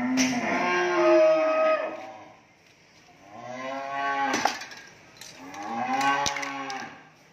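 Cattle on a farm moo in three long, loud, nearby calls with short gaps between them, and there is no talking.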